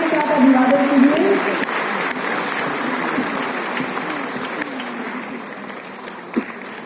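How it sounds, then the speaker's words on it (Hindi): Applause from a ceremony audience greeting the chief architect's winning team at a CPWD foundation day awards event, a steady crowd wash that starts full and slowly thins, with faint voices and music-like tones early on. "बहुत ही जोरदार तालियों के साथ अभिवादन कीजिए।"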